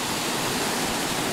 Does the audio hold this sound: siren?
no